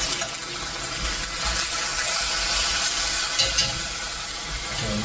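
Eggs simmering in a pan on a stove give a steady, soft broadband hiss and sizzle throughout, close and even, with no talking.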